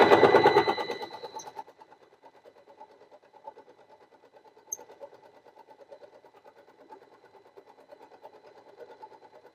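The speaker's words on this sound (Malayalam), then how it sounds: "എന്നിട്ട് നമുക്ക് അരികു വശം ഒന്ന് സ്റ്റിച്ച് ചെയ്യാം" A Usha Janome Allure DLX sewing machine overlock-stitches a fabric edge, opening with a louder burst before settling into a fast, even mechanical chatter that runs on steadily at close range.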